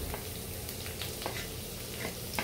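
Garlic fries in hot cooking oil in a pan, a soft, continuous sizzle with faint crackles and occasional stirring scrapes, fairly quiet and close, with no talking.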